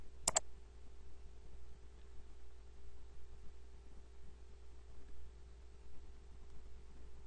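A single sharp computer mouse click, heard while working in Revit software, stands out near the start. It is followed by quiet, faint background hiss and hum for the rest of the time, with no talking.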